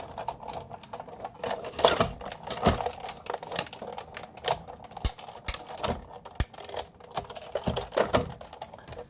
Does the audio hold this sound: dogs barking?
no